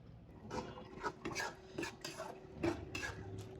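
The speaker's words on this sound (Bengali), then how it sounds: "আমি সয়া রান্না করছি রায়নের জন্য।" Soya chunks are stirred in a pan while cooking, giving a rhythmic series of soft scraping, clinking strokes, close but fairly quiet, with a faint sizzle underneath.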